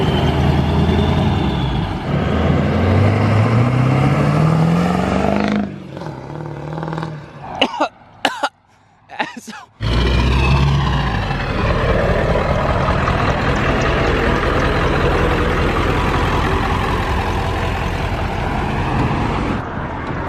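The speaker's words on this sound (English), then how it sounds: "I just rolled coal in my truck for the first time in literally like 8 or 9 months" A diesel truck rolling coal revs its engine hard, with a loud rising roar, a sudden cut to near silence with a few sharp bursts, then a steady heavy rumble that continues close by.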